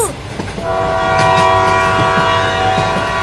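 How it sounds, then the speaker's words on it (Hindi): Cartoon train starting to run, loud and close: a sustained horn-like whistle tone rises over rumbling clatter of the engine getting under way. "देख चिंकिया, ट्रेन चलने लगी, अब हम स्कूल में जल्दी पहुँच जाएंगे।"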